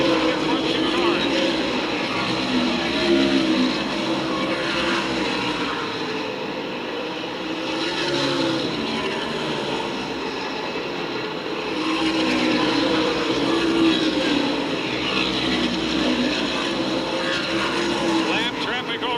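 Race cars roar around an oval track at the 2015 Kalamazoo Klash, engine drone rising and falling in waves as cars pass, with commentary running over it.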